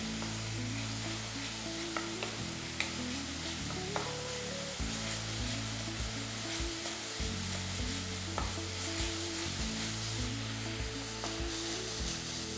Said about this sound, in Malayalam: അതിൻ്റെ പച്ചമണം മാറുന്ന വരെ ഒന്ന് വഴറ്റിയെടുക്കുക